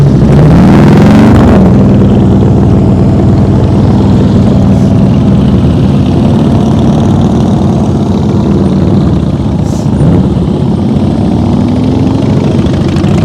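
A motorcycle engine drones loud and close during slow-speed riding practice, holding a steady low idle with slight throttle swells throughout, no voices over it.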